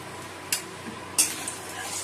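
Turmeric goes into hot oil in a wok while an egg curry is being made, giving two brief, soft sizzling bursts over an otherwise quiet kitchen.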